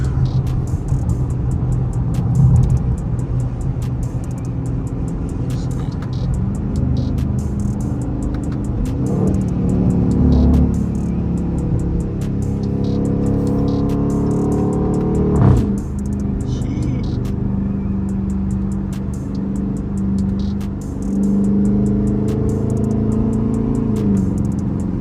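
Dodge Charger R/T driving on the road from inside the cabin, a continuous engine rumble with several rising accelerations and shifts, steady road noise underneath.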